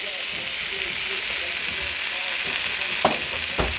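Chicken breast sears in a dry pan with no oil, giving a steady close hissing sizzle with a couple of brief clicks near the end, no talking.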